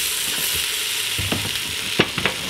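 Celery pieces sizzle steadily in a pot for corn chowder while a utensil stirs them, adding soft scraping and a few louder knocks near the end.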